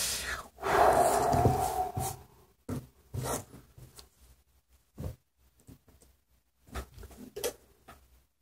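A graphene solid state battery being cut makes a burst of scraping and crunching followed by scattered short snips and taps, close and moderately loud, with quiet gaps between.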